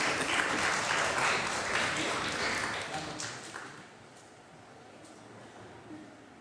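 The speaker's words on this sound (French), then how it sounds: "Applaudissez pour Jésus-Christ." Congregation applauding at a Sunday Mass, a dense burst of clapping for about three seconds that thins and fades into a quieter room, with some voices mixed in.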